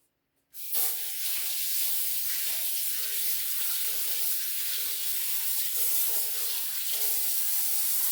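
A tap runs steadily over vegetables being washed in a sink, giving a continuous close hiss of spraying water that starts abruptly and carries on without talk.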